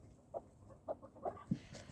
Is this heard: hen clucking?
yes